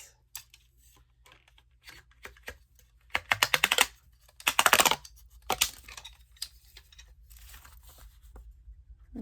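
Paper stuck onto a journaling card is crinkled and squeezed by hand, giving sharp crackling bursts that bunch together in the middle, with scattered faint rustles before and after.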